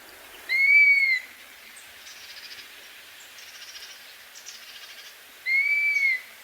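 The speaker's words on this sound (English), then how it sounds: "That's dusky cap." A dusky-capped flycatcher gives two plaintive, rising-falling whistles several seconds apart, clear and moderately near, with faint insect-like buzzing in the quiet gap between them.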